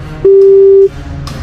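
A single steady telephone tone sounds after a call is hung up, a clean, loud beep lasting over half a second, set against faint background hum.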